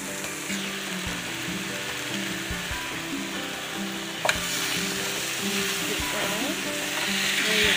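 A ribeye steak fries in a pan with cabbage, a loud continuous sizzle and crackle with scraping stirring sounds and a sharp clack midway as it is flipped.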